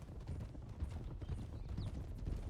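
Horse hooves clip-clop steadily in Red Dead Redemption 2, a rhythmic close thudding gait under a low rumbling background, continuous and moderately loud.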